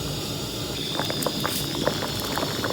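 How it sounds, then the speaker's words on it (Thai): Bamboo shoot and straw mushroom curry bubbling at a steady rolling boil in a pot, a continuous close hiss with small popping bubbles and no talk. "เดือดแล้ว เดือดแล้ว แกงเห็ดหน่อไม้ใส่เพาะ"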